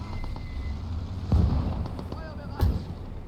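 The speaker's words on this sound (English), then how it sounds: "with two mortars firing into the center" Two mortars fire in a Gates of Hell Ostfront multiplayer battle on Nevel, booming as two heavy low thuds about a second apart over a dense rumbling battlefield din with faint crackling shots.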